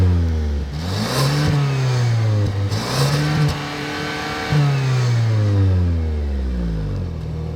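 A 2015 Hyundai Sonata Sport with a 2.0L turbo engine accelerates hard from 0 to 60 mph, its engine note climbing through several gears with distinct shift drops, loud and steady from inside the car.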